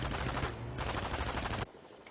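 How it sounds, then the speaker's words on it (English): In a Company of Heroes match, a machine gun fires a sustained rapid burst that stops abruptly near the end, leaving a short quiet tail. The rattle is dense and loud, with no voices over it. "Harassing the MG there."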